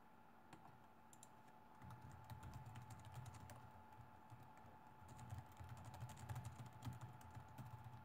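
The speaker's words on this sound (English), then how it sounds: "Let me go type to that guy" Typing on a computer keyboard comes through as a soft, irregular patter of key clicks. It runs steadily for several seconds at low level over faint background hum.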